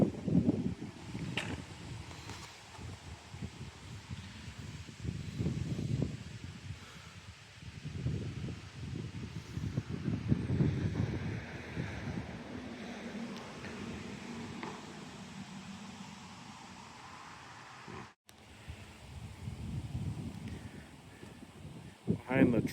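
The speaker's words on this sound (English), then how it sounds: "Super windy too." Strong gusty wind buffets the microphone outdoors on a rural day in Breedsville, Michigan, rumbling and rushing in uneven surges with a brief dropout, while a person talks throughout.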